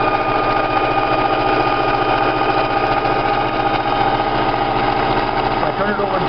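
A Singer sewing machine runs steadily at close range, a continuous even motor hum with fine rapid needle chatter, set to a decorative stitch, with no break across the stretch.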